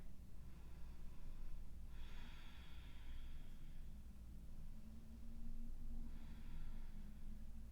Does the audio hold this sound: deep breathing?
yes